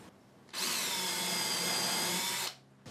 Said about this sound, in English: then I can drill through 2 at the same time